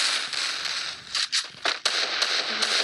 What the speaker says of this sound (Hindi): फायरिंग का आवाज बहुत आ रहा है मेरी तरह.